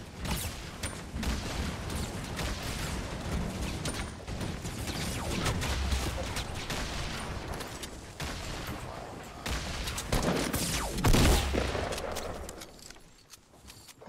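Turret gunfire in the shooter game Gunners Alive, a long stretch of rapid, continuous automatic bursts mixed with game noise, swelling louder toward the end, with faint voices underneath.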